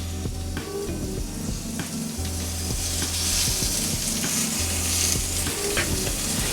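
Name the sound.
eggplant sizzling on an oiled grill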